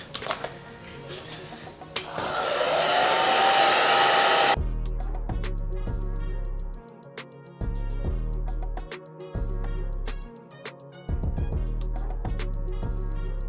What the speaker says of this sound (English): then we're gonna use the blow dryer this time